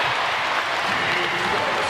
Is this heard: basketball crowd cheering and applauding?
yes